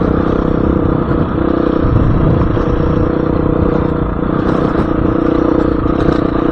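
A Husqvarna FE350s dirt bike ridden over rocky ground gives a loud, continuous engine drone with rumble and clatter from the terrain, heard close and steady throughout.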